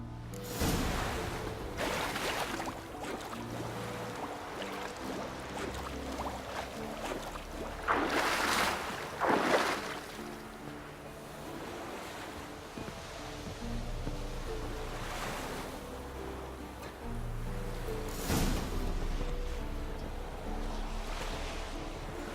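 Waves slap and wash against a small leaky wooden boat crossing a lake in The Witcher 3, with steady wind and several louder splashes over a constant watery hiss.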